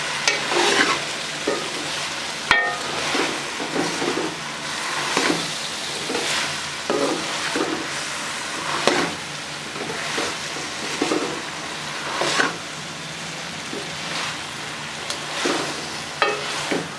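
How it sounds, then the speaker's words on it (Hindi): Fried okra (bhindi) is stirred with masala in a pan, giving a steady close sizzle broken by repeated scraping strokes of the spoon that swell and fade throughout, with no talk. "फ्राई की हुई भिंडी डालेंगे। बिस्मिल्लाहिर्रहमानिर्रहीम। अच्छे तरीके से मिक्स करके फ्राई करेंगे।"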